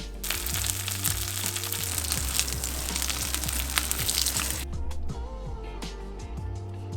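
Wahoo fillet searing in hot sunflower and sesame oil, giving a loud, steady crackling sizzle that drops away sharply near the end, leaving quieter spattering.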